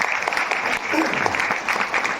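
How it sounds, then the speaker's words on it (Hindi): An audience at a religious gathering claps vigorously in a dense, steady burst of applause, with a voice talking over it. "जोरदार तालियों से"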